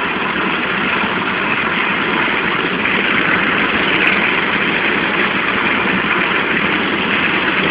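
A pickup truck engine runs with a steady, dense rumble and broad roar, constant and loud from inside the cab, with no clear change in pitch and no voices.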